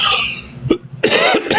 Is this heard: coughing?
yes